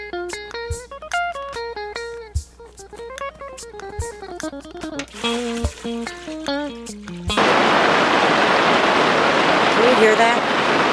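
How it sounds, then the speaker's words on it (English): Heavy rain falls hard outdoors in bear country, a loud dense hiss that abruptly takes over after a stretch of pitched music with a steady beat, then continues unbroken to the end. "Can you hear that? That's the rain."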